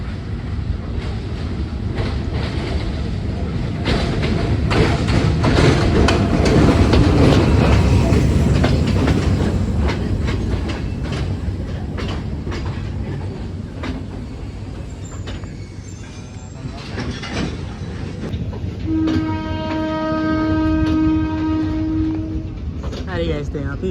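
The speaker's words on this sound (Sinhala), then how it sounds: "ඔන්න ගයිස් දැන් මේ ට්‍රේන් එක එනවා." Calypso tourist train arriving at Demodara station, a broad continuous rumble of the approaching train with wind buffeting, then a steady horn-like tone near the end, with people talking over it.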